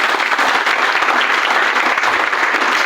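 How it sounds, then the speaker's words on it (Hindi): An audience at an indoor health awareness program claps loudly and continuously, a dense sustained burst of applause throughout. "मैं चाहता हूं सबके लिए जोरदार ताली।"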